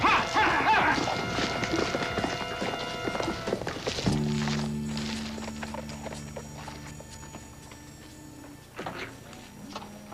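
Horse hooves clip-clop at a steady trot in a 1970s Western scene, loud at first over music, then fading to softer, more distant footfalls beneath sustained tones.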